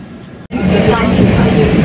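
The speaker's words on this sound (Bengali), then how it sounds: "এখন উল্টো দিকে দক্ষিণেশ্বরের দিকে চলে যাচ্ছে মেট্রোটা" A Kolkata Blue Line metro train moves off toward Dakshineswar. After a quieter stretch and a brief dropout, a loud, steady rumble rises and holds.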